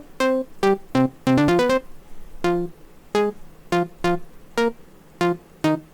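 Jupiter 8 V2 synth bass preset JP814 played in FL Studio, a run of short punchy synth notes with a quick flurry in the middle, sounding alone and close with no talking.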